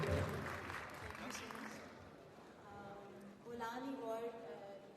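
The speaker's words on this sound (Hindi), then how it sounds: "एक जोरदार ताली की आवाज होनी चाहिए" An audience at an awards ceremony in Pakistan breaks into loud, steady applause that fills the whole stretch, swelling slightly toward the end, with voices mixed into the clapping.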